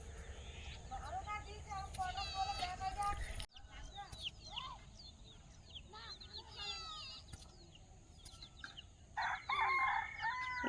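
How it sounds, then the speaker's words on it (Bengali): Backyard chickens cluck and a rooster crows near a house under construction, with repeated bird calls close by, the loudest burst near the end, as a person talks intermittently. "দিদির মুরগি এগুলো"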